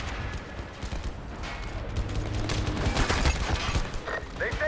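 Rapid bursts of gunfire and distant explosions in a large-scale online war game battle, with dense overlapping shots and a steady roar of combat.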